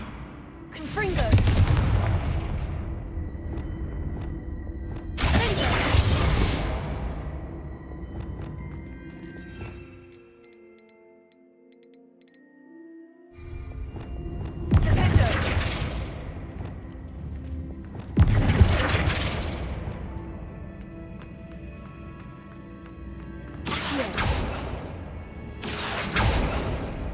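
Confringo fire spells exploding in the Hogwarts Legacy video game during a Keeper trial: a run of heavy booming blasts with roaring decay, separated by short lulls, loud and close.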